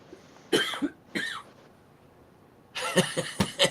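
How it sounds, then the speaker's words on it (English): A few short, raspy coughs close by, then after a pause a longer cluster of harsh coughing bursts. "you're coughing."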